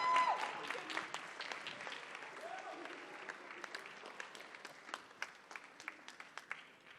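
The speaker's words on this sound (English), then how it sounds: "Let's stand up and give applause," Quiet, distant applause at a book launch, starting as a soft wash of clapping and thinning into scattered individual claps toward the end, with faint voices underneath.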